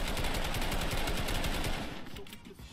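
Rapid automatic gunfire from a shooter video game, a loud close burst of fast repeated shots that stops abruptly, with a few faint echoing pops trailing after.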